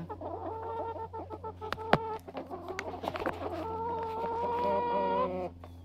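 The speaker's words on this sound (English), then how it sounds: "the Barred Rocks are trying to get in here to get some of this yumminess" Barred Rock chickens cluck busily and close by as they crowd in toward dried black soldier fly larvae treats, overlapping calls over a steady low hum.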